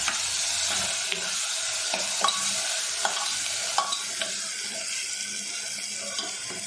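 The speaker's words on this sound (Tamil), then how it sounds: "இதெல்லாம் பாருங்க இந்த அளவுக்கு வதங்கி வருது" Tomato and mint leaves sizzle steadily in hot ghee in a pan, a bright, continuous frying hiss with occasional scrapes and taps from stirring, heard close and alone.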